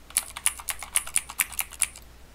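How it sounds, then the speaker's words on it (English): Computer keyboard typing set to simulate clicky Cherry MX Blue switches: about ten crisp, bright keystrokes in an uneven rhythm, close and clear with no talk. "But I want my keyboard to sound like a blue. Cherry MX Blue."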